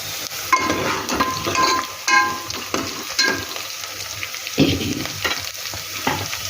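Onions and coriander fry in a pan while being stirred, a steady close sizzle broken by repeated scraping and clinking of a spoon against the pan, with no voices.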